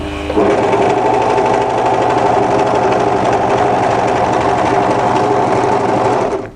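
An overlocker stitches off a fabric edge while sewing a twist knot hem tee dress, its motor whirring at a steady, loud, rapid pace for several seconds without pause.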